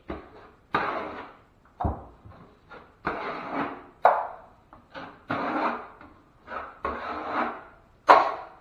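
A drywall knife spreads a heavy first coat of joint compound over fiberglass mesh tape during a wall hole repair, giving repeated scraping strokes, each a second or so long, with short pauses between passes.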